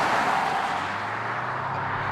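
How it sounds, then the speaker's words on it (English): A Toyota Prius hybrid strains under hard acceleration, its engine a steady, droning roar that holds at one loud, flat pitch for the whole stretch, close by and without talk. "Compared to the GTI, this Prius sounds like you're hurting it."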